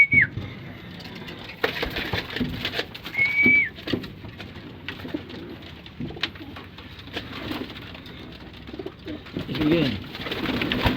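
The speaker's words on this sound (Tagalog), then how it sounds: "So yan, papakainin natin sila mga kalapatids." Pigeons cooing close by inside a new, crowded loft, soft repeated coos with other bird sounds around them, while a person speaks briefly.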